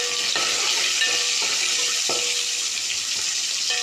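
Onions sautéing in a pan for a village-style fish kuzhambu give a constant loud sizzle, broken by repeated scraping strokes of a spoon stirring them; nobody speaks.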